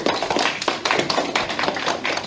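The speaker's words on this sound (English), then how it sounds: "So give yourself a round of applause." Lively clapping from a group, dense and continuous, with sharper individual claps standing out close by.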